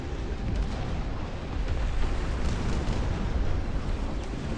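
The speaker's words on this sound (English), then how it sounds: "Siege howitzers." Siege howitzers firing in the RTS game Dust Front, a dense continuous rumble of booming artillery and explosions at steady loudness without a break.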